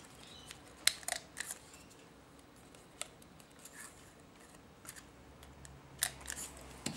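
A handheld corner rounder punch snips the corners of double-sided paper for a wallet project, giving a few sharp, isolated clicks and crunches spaced over quiet handling noise.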